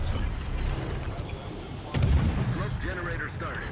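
Enemy battleship firing its guns in a naval combat video game against a Gearing destroyer, a loud booming salvo with rumbling blasts amid ongoing game noise.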